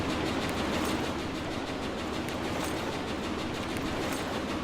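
A moving train in the video game Jailbreak gives a steady, unbroken rumble at constant loudness, with no voices over it.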